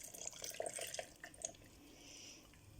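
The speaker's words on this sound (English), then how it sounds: "I'm going to put another cup of water on top" Water poured from a cup into a jar of chopped apples for homemade cider vinegar, giving faint splashing and dripping trickles in quick irregular bursts, close and quiet.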